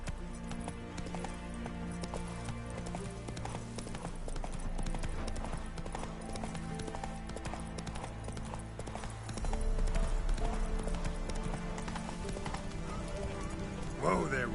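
Roach, the horse in The Witcher 3 video game, trotting with steady rhythmic hoof clip-clops over an ambient music bed, plus a brief whinny near the end.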